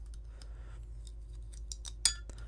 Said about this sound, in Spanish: voy a usar estas tijeras aquí y voy a abrirla por las esquinas